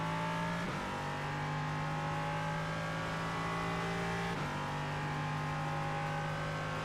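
Race car engine in iRacing, a sustained drone with two brief dips like gear shifts or lifts, steady and fairly loud throughout, no voices.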